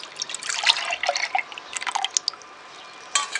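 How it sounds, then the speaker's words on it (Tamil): Milk pours into a mixer jar for carrot juice, a light splashing and dripping trickle that starts and stops in short close bursts. "பாலையும் இந்த மிக்சி ஜாரில் ஊற்றி"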